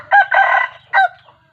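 A fighting rooster crows nearby, two loud bursts with a brief gap between them, standing alone over a faint low background.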